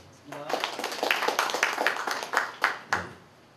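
Clapping from a small audience at a panel discussion on workers' politics, held in a rooftop room, greeting a panelist's introduction; a burst of close hand claps with several distinct sharp claps, mixed with talk.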